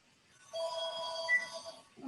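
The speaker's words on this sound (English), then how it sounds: "I'm sorry about the phone ringing in the background." Telephone ringing faintly in the background of an indoor human rights commission meeting, a steady electronic warble lasting over a second, distant and quiet with no talk over it.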